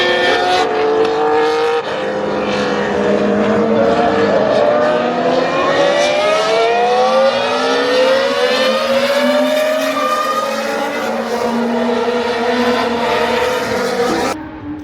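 Historic racing cars at the French Grand Prix roar past one after another, engines rising and falling in pitch through gear changes as they sweep by close and loud.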